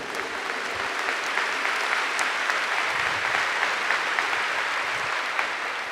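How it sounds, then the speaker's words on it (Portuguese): A church congregation applauding in praise, steady massed clapping from many hands sustained evenly throughout, moderately loud with a roomy feel. "Give the Lord a big clap for that."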